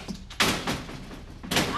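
A locked door is banged on in a tense domestic drama scene, with three heavy, close thumps spread over under two seconds and no talking.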